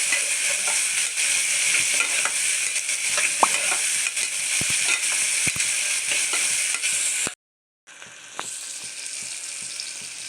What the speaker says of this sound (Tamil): ஒரு தக்காளி மெலிசாக கட் பண்ணி வச்சுக்கிறேன், அதையும் இதில் சேர்த்துக்கலாம். இதையும் சேர்த்து நல்லா வதக்கிக்கலாம்